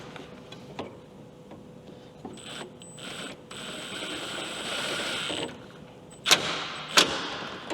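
A ratchet wrench tightens down a Cobb intake on a 2021 Subaru STI in a garage, giving quiet intermittent clicks and short mechanical turns followed by two sharper metallic clacks near the end.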